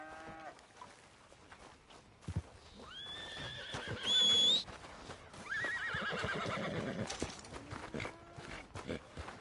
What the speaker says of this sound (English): Need a hand with that horse?